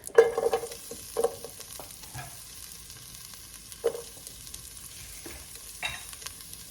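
Onions and garlic frying in a pan, with occasional soft stirring scrapes and faint sizzling at a quiet level, a few brief clinks standing out against a low background.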